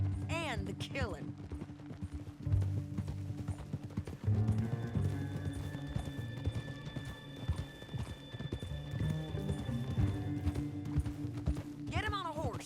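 Horse hooves clip-clop under people talking in Red Dead Redemption 2, with a horse whinnying at the start and end, moderately close amid background commotion.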